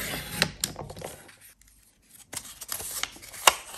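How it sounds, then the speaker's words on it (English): A craft blade slices along a scored line through a grungy paper envelope, giving a few short, dry scraping cuts and rustles close by, with a brief pause in the middle before the cutting resumes. "we're going to cut that into a tuck spot by just cutting along this line, which will create a triangle"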